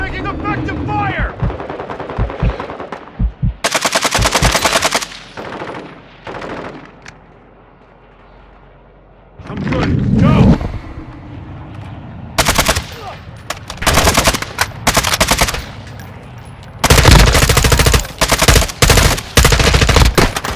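Rapid automatic gunfire in Call of Duty: Warzone 2, loud close bursts repeating in several volleys with brief gaps between them.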